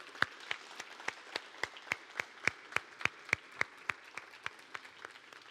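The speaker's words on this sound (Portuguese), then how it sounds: "E eu quero aplaudir você." Applause from an audience at a church gathering in Taubaté, heard as about twenty sharp, evenly spaced claps, sounding like a few people or a single clapper in a quiet room, fairly faint with no talk.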